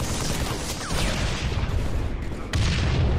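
Rapid bursts of Halo 3 gunfire crackle and boom in quick succession, dense and loud with no pause, ending with a sharper blast near the close.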